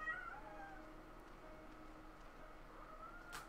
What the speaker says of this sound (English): My cat is being upset because my boyfriend's gone to the store.